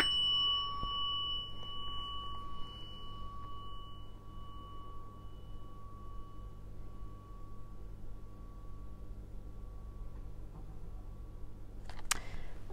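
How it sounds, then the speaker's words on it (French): A small gong is struck once, its bright metallic tone ringing out and slowly fading over several seconds in a quiet room, with a faint tap near the end. "Et voilà, un petit gong."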